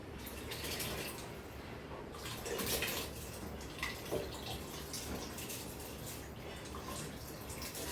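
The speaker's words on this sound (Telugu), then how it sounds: "సో ఇప్పుడైతే మనం వాటర్ని రైస్ని ఇందులో యాడ్ చేసుకుందాం." Water is poured into a pot of rice for a chicken rice dish, one and a half glasses of water to each glass of rice, giving a steady splashing, running pour that lasts the whole stretch at close range.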